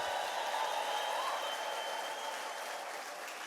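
A church congregation at New Creation Church breaks into sustained applause with faint high ululation, heard as a steady, somewhat distant wash of clapping that slowly fades.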